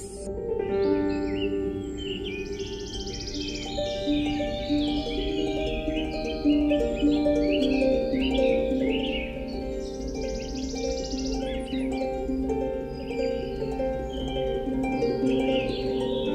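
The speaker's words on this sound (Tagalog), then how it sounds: "maririnig ko pa talaga ang mga huni ng mga ibon" Birds chirp and sing through a cold morning at Silvino Lobos, with scattered high calls over a steady, humming background that runs the whole time.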